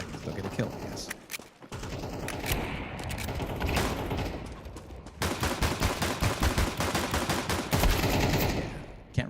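First-person shooter gunfire crackles in rapid, dense bursts, with brief gaps between volleys and a few sharper individual shots, loud and continuous for most of the stretch.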